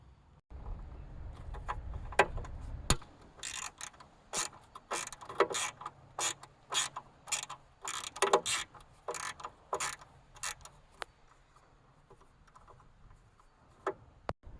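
Screws being loosened on the mount of an RV convex mirror, a Ramco SNP-GLS171 unit: a close series of sharp metallic clicks and ratcheting taps, irregular in rhythm, with a low rumbling handling noise at the start and no talk.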